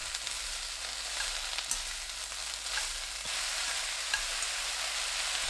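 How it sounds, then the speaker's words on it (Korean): Loud, continuous sizzle of enoki mushrooms, green and red chili peppers and chives stir-frying over high heat in a pan, with occasional scraping taps of a utensil, close up and without voices. "팽이버섯, 청양고추, 홍고추, 부추 넣고 센 불로 20초 볶습니다."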